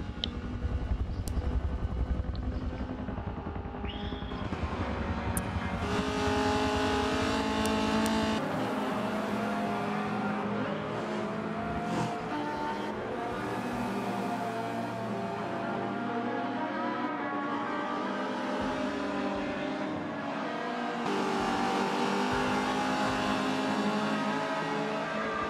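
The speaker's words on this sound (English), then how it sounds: "Coming back to JDM's run off the track at Spoon there. In his Team Tosser Motorsport BMW" Vintage DTM BMW race car running at Suzuka circuit, a sustained loud engine roar rising and falling through gear changes, with other cars sounding around it and no voices.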